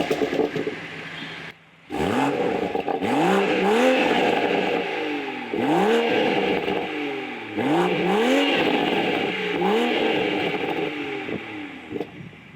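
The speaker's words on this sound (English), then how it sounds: "let's go ahead and turn the car on and listen to that beautiful sounding turbocharged straight 6" Toyota Supra's turbocharged straight-six engine starts up with a short whir and fires, then revs repeatedly in rising and falling sweeps, loud and close with no talking.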